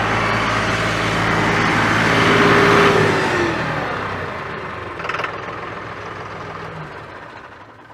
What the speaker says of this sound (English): So this is a safe RPM to run the tractor at